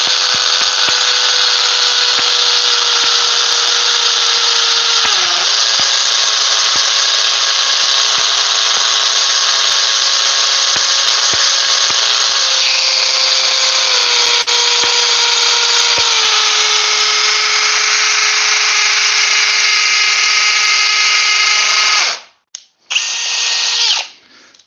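A rotary hammer drills into concrete with a loud, steady whine and hard hammering that runs for about twenty seconds, shifts pitch slightly partway through, then cuts out and gives a brief final burst.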